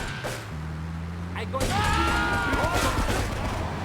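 Gunfire in the video game Grand Theft Auto III crackles in bursts under a steady engine drone and game effects, while someone talks over it.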